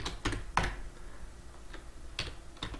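Keys tapped on a computer keyboard in a few short bursts of clicks, close and fairly quiet, with no talking.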